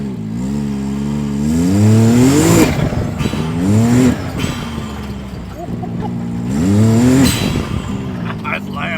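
A Can-Am side-by-side fitted with an RPM cutout exhaust and a blow-off valve revs hard in repeated bursts, each climb ending in a hiss or whoosh. It is loud and close, with brief pauses between pulls.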